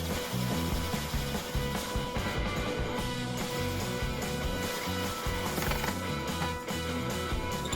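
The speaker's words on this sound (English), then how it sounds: "Now I start drilling out the top panel." Power drill boring into a jetpack top panel, a loud continuous grinding, chattering whir with rhythmic mechanical pulsing throughout, close to the microphone, with no talking.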